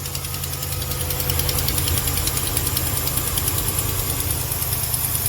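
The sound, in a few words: Hemi engine ticking at cold idle, possible broken exhaust stud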